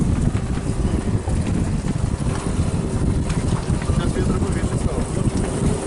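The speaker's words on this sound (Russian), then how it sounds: "Гребаный ветер, а когда он закончится?" Strong gusts of wind buffet a raft on a river, a constant loud roar and rush of wind noise across the microphone, with some water and paddling sounds underneath.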